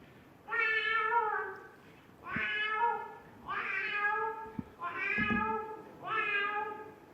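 A performer at a Kerala school arts festival mimicry contest imitates a cat with his voice, five drawn-out close meows in a steady series, each separated by a brief pause.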